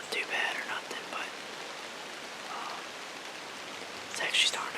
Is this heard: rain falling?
yes